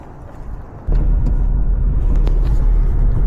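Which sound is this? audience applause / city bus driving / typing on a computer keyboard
city bus driving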